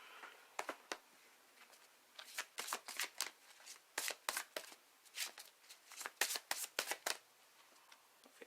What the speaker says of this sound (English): these next cards are going to be from the Butterfly Oracle deck by Doreen